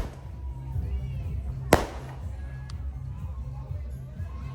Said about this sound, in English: I get the last firework